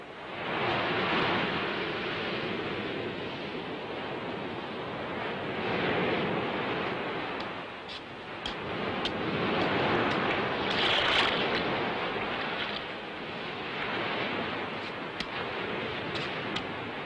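Steady sea waves wash along a coast near a wartime airbase, a continuous broadband surf roar that swells and eases in slow surges, with some wind buffeting and no voices.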